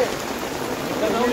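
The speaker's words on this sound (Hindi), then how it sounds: "तेज बारिश आ गई गाइस" Heavy rain pours down steadily on a campsite tent, a dense even hiss filling the short moment with no break.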